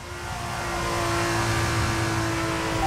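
A Formula 1 race car engine in F1 23 at Albert Park, Australian GP, drones loud and close with a steady high whine, building slightly as it rounds the final corners.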